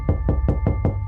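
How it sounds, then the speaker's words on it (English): Five evenly spaced knocks rap on a door, firm and close, with nothing else heard. "suddenly there was a knock at the door"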